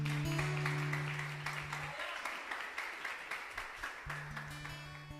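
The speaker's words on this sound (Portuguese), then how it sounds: "Vamos aplaudir a palavra de Deus?" A church congregation applauds during a sermon, soft, fairly distant clapping that fades in intensity, with a steady low hum running beneath it.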